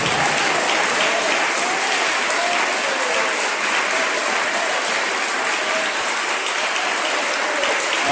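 A church congregation claps together in sustained, dense applause during a worship service, steady and loud throughout with no pauses.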